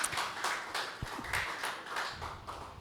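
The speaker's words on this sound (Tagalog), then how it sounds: "Isang palakpak para sa Lord." Congregation clapping at a Sunday church worship service, a soft, steady run of rhythmic claps in the hall, heard at a moderate distance.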